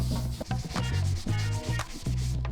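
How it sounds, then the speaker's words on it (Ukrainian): Rhythmic back-and-forth rasp of sandpaper scrubbing filler on a 1981 Karpaty moped, close and steady, with brief pauses between strokes. "Знову шліфуємо поверхню, що ремонтується."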